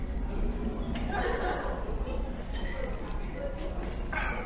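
Cups or glasses clink together in a toast over lime soda during an IKEA meal, a few light chinks heard amid steady restaurant chatter and nearby talk.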